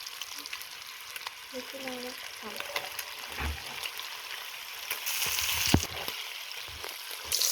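Food sizzling in a frying pan while being stirred, with light scraping and clinks over a steady hiss and some occasional louder clatter.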